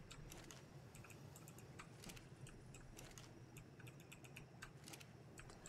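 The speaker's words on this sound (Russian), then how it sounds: "Клавиатура, да, шумная." A new mechanical computer keyboard clatters with quick, irregular bursts of keystrokes at close range while a video game plays in the background.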